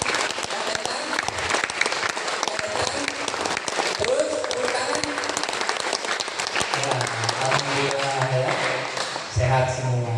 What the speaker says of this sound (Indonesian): tepuk tangan yang kencang.